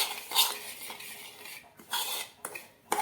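Spice masala being mixed into split chillies for kathiyawadi raita marcha, with brisk rustling stir strokes and clinks of a spoon against a metal container in short bursts, close and fairly quiet, with no talking.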